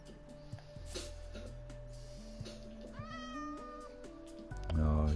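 A Minecraft cat meows in a game world, with a rising mewing call near the end over a steady hum of game sound and soft musical tones, and a voice talking faintly underneath.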